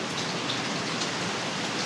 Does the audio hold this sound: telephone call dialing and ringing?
no